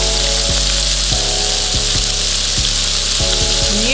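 Beef sears in a hot pan for a paleo beef and broccoli dinner, giving a loud, steady sizzle with crackling spits that stays constant throughout, with no talking.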